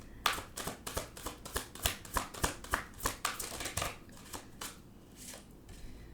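Tarot cards are shuffled in a quick series of soft, crisp riffling flicks, close and steady, tapering off toward the end.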